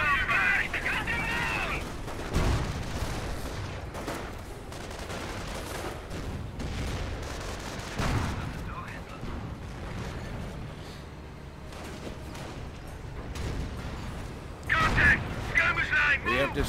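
Tank cannon fire and armor-piercing rounds bouncing off armor in Company of Heroes on the Lorraine map, with a Panzer IV, Hellcat and pack gun trading shots; repeated sharp booms and impacts ring out over battle noise while a voice talks throughout.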